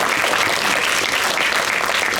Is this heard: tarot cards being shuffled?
no